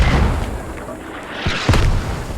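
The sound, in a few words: mortars landing in the video game Squad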